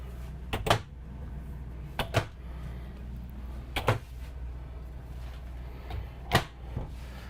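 Several soft-close drawers in a 2020 Newmar Superstar 4051 motorhome bedroom closing, each a brief muffled thump, spaced a second or two apart in a quiet room.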